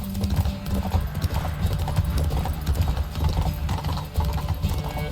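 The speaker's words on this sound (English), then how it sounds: "Take your mount to her limits." Horse hooves gallop in a fast, steady clip-clop rhythm throughout, loud and close, with an occasional faint whinny, as a mare is pushed to full speed in a race in The Witcher 3 video game.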